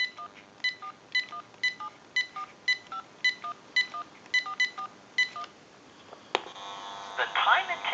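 A rapid series of touch-tone beeps dials a time and temperature number on a General Electric 27909 cordless telephone in an even rhythm, followed by a short burst of line noise and a faint voice.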